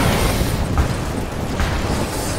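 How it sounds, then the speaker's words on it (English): An explosion in Command & Conquer 3: Tiberium Wars, a loud, broad roaring blast with rumbling debris that stays dense and heavy throughout, with a couple of softer bursts inside. "Tiberian explosion detected"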